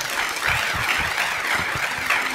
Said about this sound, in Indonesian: terima kasih teman-teman LD PWNU, tepuk tangan